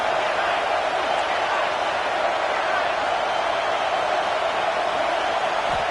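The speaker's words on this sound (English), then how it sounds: "Crowd trying to help out here on fourth down" Steady broad roar of a football stadium crowd during a fourth-down play in a Clemson game, loud and continuous throughout with no distinct peaks.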